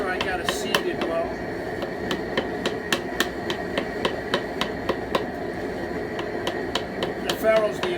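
Small hammer striking over the edges of lead pipe for a lead wipe joint, a steady series of sharp metallic taps in fairly regular rhythm, close, over low background noise.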